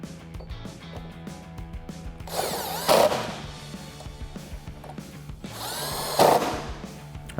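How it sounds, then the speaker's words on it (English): A power drill driving factory hardware with a T40 Torx bit to bolt down a Rugged Ridge AmFib snorkel on a Jeep Wrangler JL; two loud whirring bursts of a few seconds each over a quiet workshop background. "we'll reuse our factory hardware to bolt it down."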